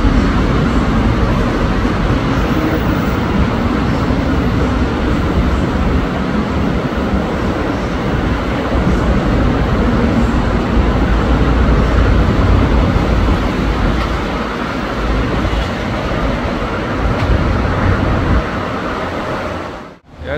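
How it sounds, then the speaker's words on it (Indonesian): The Whoosh Jakarta-Bandung high-speed train races past near Halim station with a loud, continuous rushing roar that holds steady for about twenty seconds before cutting off abruptly. "Ada kereta cepat teman-teman."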